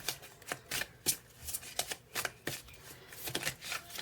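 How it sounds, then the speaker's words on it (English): Tarot cards being shuffled by hand, a close series of crisp riffling bursts in an uneven rhythm, roughly a dozen quick flutters with no talk over them. "so I'm just going to shuffle."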